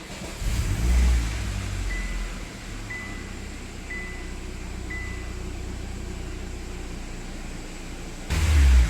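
Engine of a Kia/Hyundai Sonata idling with a steady low rumble, running rough with fuel pressure being relieved until it sputters, followed by a louder surge at the end.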